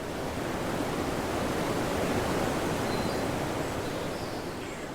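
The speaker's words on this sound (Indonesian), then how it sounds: "Oh, inilah tempatnya. Air terjun Pasir Tangkai." Steady roar of rushing water at the Pasir Tangkai waterfall, a dense, continuous wash of white noise that stays loud and unbroken throughout, with no voices.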